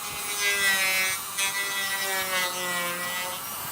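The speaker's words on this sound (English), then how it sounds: "we're going to sand down the edges and just kind of give it a nice clean factory look" The edges of a Honda Talon UTV bumper being sanded, a steady rasping grind with a whining tonal drone from the power tool, close and continuous with no talking.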